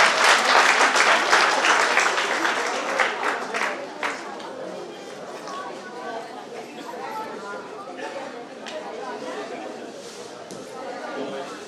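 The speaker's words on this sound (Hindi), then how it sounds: "दोनों हाथ उठाकर ताली बजाकर निवेदन करें।" An audience at a Jain chaturmas kalash sthapana religious gathering in Rana Pratap Bagh claps loudly and close. The clapping fades over several seconds into softer scattered claps and crowd chatter.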